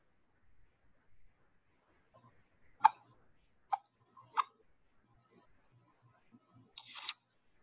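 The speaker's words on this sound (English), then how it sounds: "it bites into a snail's shell and makes a popping sound" A terrapin resting on the ground in a salt marsh bites into a snail's shell, giving three sharp, quiet pops spaced about a second apart, then a brief scratchy crunch near the end.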